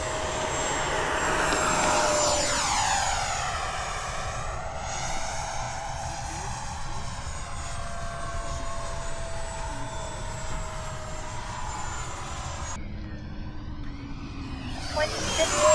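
A Lightning model airplane passes overhead at Fritz Field, its jet-like engine whine rising and falling with a Doppler sweep, at moderate distance, with faint voices in the background.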